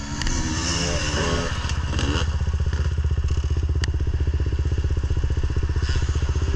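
A motorcycle engine rumbles nearby at a cross country event, idling with a steady throbbing putter after a brief rev and some clattering, growing close.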